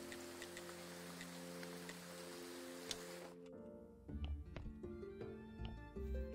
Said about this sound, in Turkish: Yağmur sesi geliyor ama yağmur çok net değil bu arada